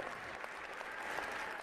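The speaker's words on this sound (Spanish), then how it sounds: "un gran aplauso para Equifax por este 9º lugar" An audience at an award ceremony for the best companies for young professionals in Uruguay in 2021 applauds a winner with dense, even clapping throughout.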